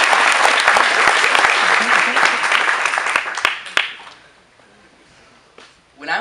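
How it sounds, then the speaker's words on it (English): A graduation audience applauds the class of 2015 in a loud, dense burst of clapping that thins out and fades to near quiet after about four seconds, with a brief rustle at the end. "let's have a round of applause, though, for the class of 2015"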